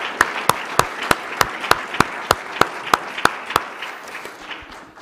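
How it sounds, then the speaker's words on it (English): Audience clapping for panelists at a faith and democracy event, sounding as loud, evenly spaced claps in a steady rhythm, close and distinct, tapering off near the end. "give another round of applause to our panelists"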